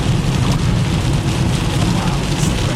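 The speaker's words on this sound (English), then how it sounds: "I think there's far too much rain" Heavy rain pours down during a Florida summer thunderstorm, a loud, dense and unbroken hiss of water hammering nearby surfaces with a low rumble beneath it.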